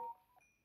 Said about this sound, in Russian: Телефон хочет издавать звуки во время съемок.